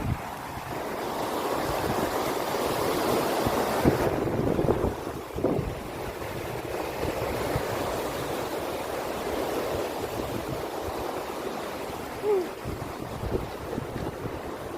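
Ocean waves surge and crash against the rocks at Canal Rocks, a loud, continuous wash with gusts of wind buffeting the microphone and a stronger swell early on.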